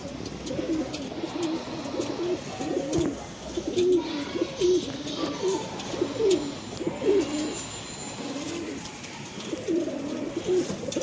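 Several pigeons offered for sale by a breeder in Bangalore coo steadily and close by, low rolling calls repeating in overlapping phrases for the whole stretch with no talking.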